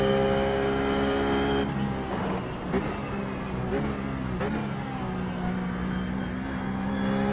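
Ruf GT3 Porsche race car in the iRacing game at Sonoma, its engine droning steadily at high revs throughout, with a few brief shifts and bumps in pitch as it runs a qualifying lap.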